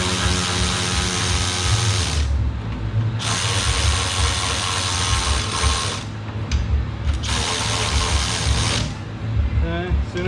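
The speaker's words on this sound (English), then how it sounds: "And I'm going to run these things in. A little bit on each one." A power tool runs 8mm bolts in during a simple alignment on a Rush SR, whirring in loud ratcheting bursts separated by short pauses.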